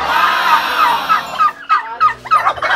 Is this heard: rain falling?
no